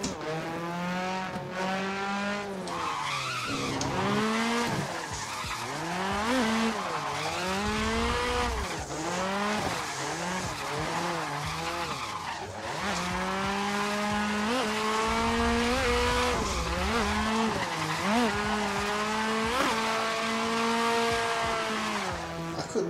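Nissan S14 street-spec car drifting in the Assetto Corsa racing game, engine droning and revving hard as the tires squeal steadily through long slides, loud and continuous.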